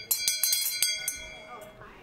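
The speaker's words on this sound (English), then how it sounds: "I got to ring the bell." A bell rings in a church gathering with a burst of quick, bright metallic strikes and a ringing tone that fades out. A voice talks over it.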